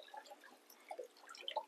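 Water drips steadily into a container during drip acclimation of a newly acquired shark, a sparse run of faint, small plinks close by with no talk.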